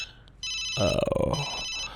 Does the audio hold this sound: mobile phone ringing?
yes